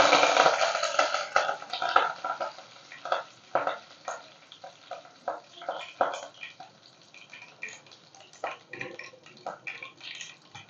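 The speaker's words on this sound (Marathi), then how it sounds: "थोडंसं लसूण लाल होऊ द्यायचं कडीपत्ता घालायचा आपल्याला" Garlic browning with curry leaves in hot oil crackles loudly at first and settles into a close, uneven sizzle with bursts of popping and spattering. Spoon scrapes and stirring knocks recur throughout.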